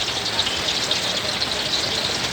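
Dense, steady hiss of heavy rain pouring down at a street food vendor's stall, loud and continuous with no pauses.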